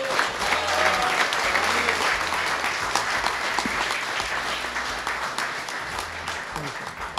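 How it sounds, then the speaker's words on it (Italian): Steady applause from a crowd at an award presentation fills the whole stretch, dense and even, with a faint voice or two underneath. "Allora un applauso, vediamo."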